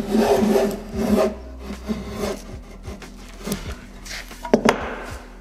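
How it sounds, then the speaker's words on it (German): A hand plane runs over a wooden board to take off saw marks, giving rough rasping strokes that repeat at close range, with a few sharper knocks near the end. "einmal mit dem Hobel drüber, dass wir die Sägemarken entfernen"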